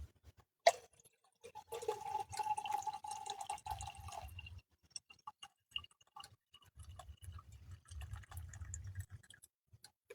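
Melted snow water drips into a cup in quiet, irregular drops close by. A faint low rumble sits in the background, with no talking.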